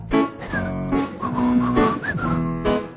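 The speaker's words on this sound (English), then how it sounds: "Just purse your lips and whistle, that's the thing." Someone at a Sunday service of a spiritual community whistles a melody, a bright, rhythmic, clearly phrased tune over a fuller musical backing, with no spoken words.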